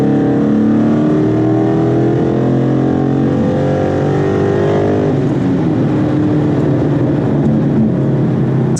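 A V6 muscle car with a supercharger accelerates hard to overtake another car, a loud continuous engine roar rising steadily in pitch before a gear change and pulling on strongly, heard from inside the cabin.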